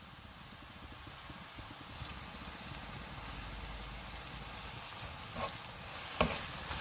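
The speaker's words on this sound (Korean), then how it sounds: "정확히 딱 시간은 물엿을 넣은 후로 3분만 볶아주시면 됩니다" Fish cakes stir-fried with corn syrup in a pan, a steady close sizzle with stirring scrapes and occasional louder clicks of the utensil, no voices.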